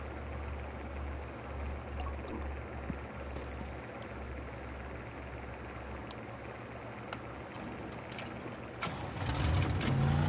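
A Jeep in the Teardown game drives with a steady low engine drone and road rumble, then a louder surge near the end.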